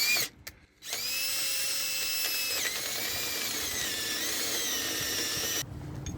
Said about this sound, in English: I just resharpened my 1/2 inch bit, so it should cut pretty well